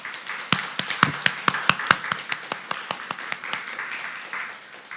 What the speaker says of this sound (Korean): 우리 순장님들 좀 박수로 좀 격려해 주었으면 좋겠습니다